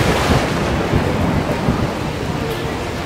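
Heavy rain pours steadily at an outdoor Sunday street fair in San Telmo, Buenos Aires, a dense loud hiss with low rumbling that could be thunder mixed in throughout.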